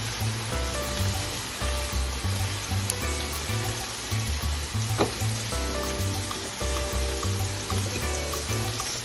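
Cabbage frying in a pan with buttered shrimp and vegetables, a steady close sizzle with occasional stirring scrapes, fairly quiet and without speech.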